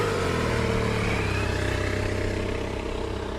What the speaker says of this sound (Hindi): गौरव ने तुरंत अपनी बाइक चाय की टपरी के सामने रोक दी।